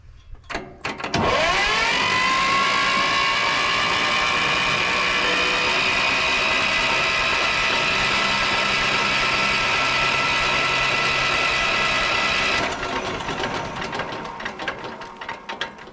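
A Belarus 250AS tractor engine that has sat for years is cranked over with the decompression valve open. It makes a steady, loud mechanical whirring churn for about eleven seconds, then the starter stops and a softer clatter trails off.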